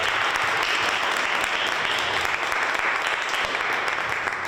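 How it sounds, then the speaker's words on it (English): A school audience at a fall STEM gathering claps together in steady, dense applause that fills the room without pause, loud and continuous, with no talking over it. "give everyone a round of applause"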